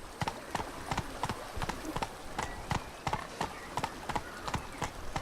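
Roach the horse gallops in The Witcher 3, hooves clip-clopping in a quick, regular rhythm close by, with a faint voice in the background.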